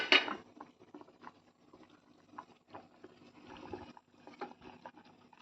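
Roopchand pomfret fish curry pieces simmer in a covered pot, giving a steady low bubbling with scattered soft pops and gurgles, close by and fairly quiet after a brief louder clatter at the start, with no talking.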